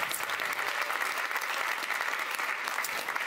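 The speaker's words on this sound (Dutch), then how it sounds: "Ik wil graag een warm applaus voor deze 5 lijsttrekkers." A crowd at a political debate between five lead candidates claps steadily and warmly, a dense continuous wash of applause without any voices on top.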